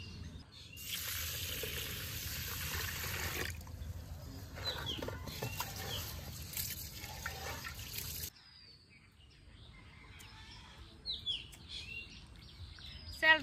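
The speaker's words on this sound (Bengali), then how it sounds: "এই সেলগুনা প্রথমে তাহলে ধুয়ে নিই।" Thin shellfish being rinsed by hand in water, with steady splashing and sloshing for about eight seconds before it drops to quieter, sparse trickles and small knocks.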